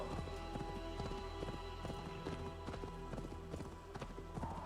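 Hooves clip-clop steadily as a horse travels in Assassin's Creed Valhalla on PS5, a quick regular rhythm of hoofbeats over a constant low game soundtrack drone, fairly quiet overall.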